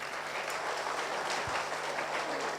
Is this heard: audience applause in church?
yes